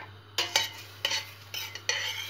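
Chopped onion and dried chili pepper sizzling in butter in a pot, bursts of crackling sizzle as the pieces are stirred, about five short surges over a low steady hum.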